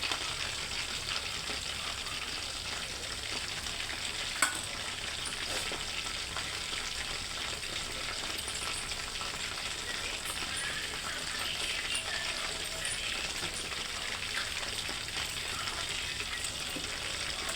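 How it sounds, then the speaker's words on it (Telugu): Chicken frying in a pan gives a steady, close sizzle that runs unbroken, with occasional soft stirring and clinks against the pan. "నార్మల్గా నేను చికెన్ వేయిస్తున్నా."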